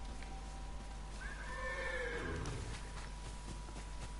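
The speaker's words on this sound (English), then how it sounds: "That's definitely not a bear, that's a horse." A horse whinnies once in the video game Ghost of Tsushima, a rising, then falling neigh over a steady low background hum, with no talking.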